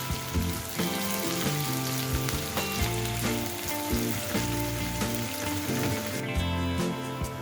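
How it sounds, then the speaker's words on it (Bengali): Sliced onions sizzle and crackle steadily in hot oil over a medium gas flame while being fried into crispy beresta for a Bengali fish dish, a dense, close, continuous frying hiss. "গ্যাসের ফ্লেমটা মিডিয়ামে রেখে আমি পেঁয়াজের বেরেস্তা তৈরি করে নিচ্ছি"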